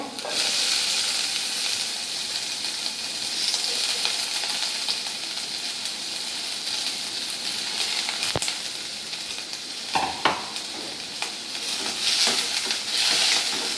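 Small onions and tomato sautéing in a hot oiled pan for egg kothu parotta, a steady loud sizzle and hiss with occasional stirring scrapes and clinks, close up and without talking.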